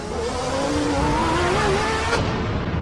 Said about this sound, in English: Ayrton Senna has hit the wall.